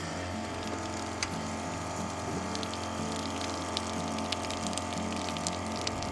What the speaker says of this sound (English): That's hot water coming out right now.